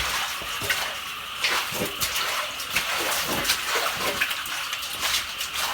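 Water pumped from a pond gushes and splashes steadily after rain, a loud continuous rushing pour with irregular sloshing bursts, close by and with no talk over it.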